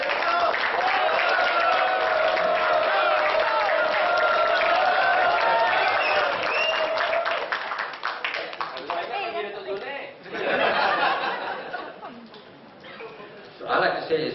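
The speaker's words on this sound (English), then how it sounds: "I'd like to give a round of applause to Dr. Zul and NASA for their help today" A meeting audience at an annual general meeting gives a round of applause, dense clapping that holds steady for about seven seconds, then thins into scattered claps and chatter with brief renewed bursts.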